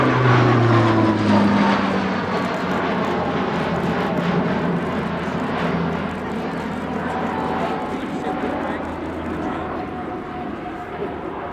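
A twin-turboprop Alenia C-27J Spartan military transport from the Italian air force flies aerobatic rolls at an airshow, its propeller engines droning loud and steady throughout with slowly shifting pitch.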